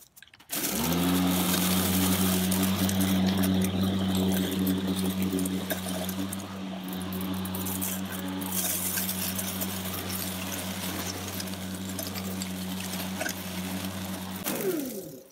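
An EGO Power+ battery-powered lawn mower bagging leaves hums with a steady, loud electric motor whine and a low constant drone, starting abruptly and cutting off near the end, nearby and without talk.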